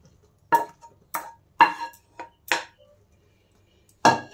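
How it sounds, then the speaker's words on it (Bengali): Soaked, boiled soybeans poured onto a metal plate, heard as a handful of separate close clinks and soft clatters with silent gaps between them, no talking. "দেখেন এইরকম একটা থালায় আমি ঢেলে নিলাম।"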